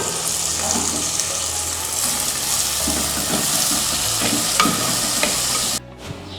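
Onions and chopped tomatoes frying in a pan for a Kerala-style fish curry, a steady broadband sizzle with scraping stirs throughout, fairly loud and close, no voices, ending in a brief quieter moment.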